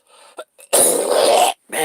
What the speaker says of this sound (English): This cough is bad.